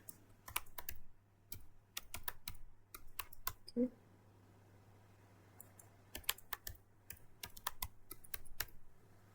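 Quick, irregular bursts of keystrokes on a computer keyboard as a password is typed during sign-up in an online class web app, crisp close clicks over a low steady hum.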